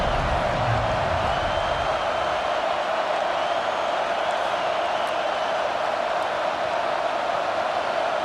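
Stadium crowd in College Football 25 roaring steadily throughout on a big third down, a dense sustained wash of cheering with no breaks.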